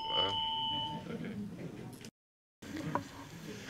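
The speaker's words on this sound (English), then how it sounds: "That bell also signals it's time for the second question" A timer bell at a county supervisors election forum rings out as a sustained tone near the start, then fades under room noise and low murmuring, followed by a brief gap and a short ding later.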